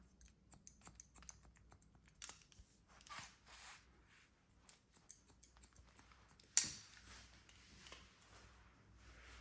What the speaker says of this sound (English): Love that sound of the scissors. When they open, close, open, close.